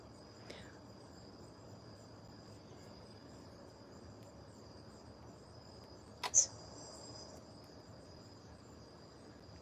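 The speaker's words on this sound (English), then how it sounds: "you can hear the crickets. Yep, they're crickets." Outdoor crickets keep up a thin, steady high-pitched trill on a quiet porch, alone and fairly faint, broken once by a short sharp click.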